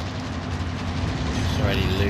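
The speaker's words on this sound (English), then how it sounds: "Oh, train's going past." A train rumbles past in the Call of Duty: Modern Warfare video game, a low rolling drone swelling slightly toward the end, heard under players' voice chat.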